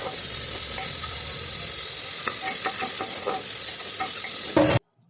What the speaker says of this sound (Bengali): পেঁয়াজ কুচি এখন গোটা মশলার সাথে অল্প সময় ভাজুন